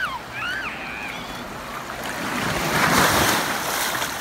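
Surf rolling onto a black sand beach in Hawaii, a wide hiss of water and wind that swells louder in the second half, with a few faint high calls at the start.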